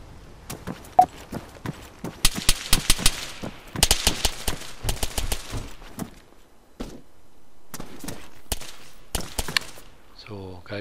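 Rapid bursts of Arma 3 video-game gunfire crackle in uneven volleys, some sharp single shots and some dense clusters, with brief pauses between.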